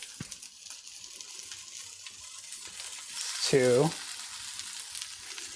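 Thin sukiyaki beef slices sizzling in a pan, a faint steady frying hiss throughout, with a brief voice speaking over it partway through.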